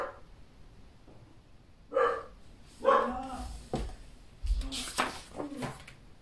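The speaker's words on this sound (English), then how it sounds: "Don't mind the dog in the back." A dog barks in the background of a quiet indoor room, a few scattered muffled woofs spread over several seconds, moderately distant and not very loud.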